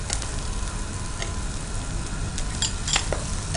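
Cumin, ginger and garlic sizzling in hot oil in a pan, a steady close frying hiss with scattered sharp clicks and scrapes from stirring.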